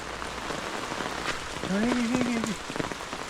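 Heavy rain patters steadily on a surface throughout, with a brief murmur of a voice partway through under the downpour.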